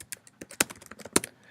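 Keys clack on a computer keyboard in a classroom during setup, irregular sharp taps and a few louder strokes in quick bursts, close and alone without talk.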